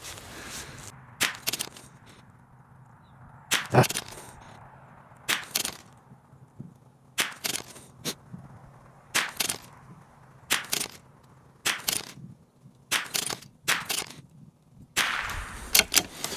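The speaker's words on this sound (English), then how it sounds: "we're gonna rip off another 10 rounds" A Savage MKII rifle fires a string of rounds outdoors in cold wind with Eley match ammunition, sharp loud cracks spaced a second or two apart, about a dozen shots over a low windy background.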